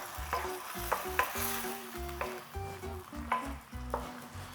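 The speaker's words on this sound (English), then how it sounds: "Coat the spaghetti in the lovely olive oil and garlic infused sauce" Spaghetti tossed in a pan of olive oil and garlic sauce, with soft stirring scrapes and clinks over a light sizzle, coming in short uneven bursts close up and without talk.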